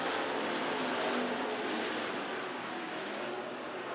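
Race cars in a dirt track heat race roar in a dense, steady wash of engine noise from a moderate distance, with no distinct passes standing out.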